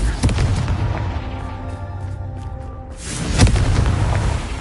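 A Confringo spell explosion from the video game Hogwarts Legacy booms twice, a sharp blast near the start and another past the midpoint, over a steady game background.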